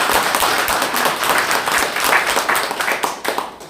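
Loud applause from party members at a Democratic Party training session, dense close clapping filling the moment with no speech over it.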